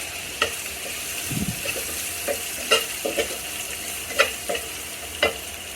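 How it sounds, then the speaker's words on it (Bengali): Shredded carrots fry in a little oil under a soft, steady sizzle, broken by sharp, irregular scrapes and taps of stirring at close range. "গাজর কুচিগুলো কিছুক্ষণ ভেজে নিতে হবে আমাদের"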